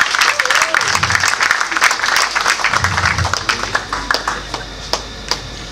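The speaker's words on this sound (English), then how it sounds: "A big round of applause for him." Audience applause at a birthday lecture event, dense clapping that thins into scattered individual claps toward the end, with some voices mixed in.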